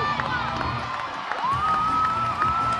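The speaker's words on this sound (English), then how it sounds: "There are a lot of kids around here shouting from the very first." Crowd of spectators and children shouting and cheering at a lead climbing competition, a loud whoop rising above steady crowd noise as a climber moves, with an announcer talking over it.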